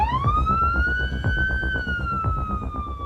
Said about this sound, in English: Ambulance and siren.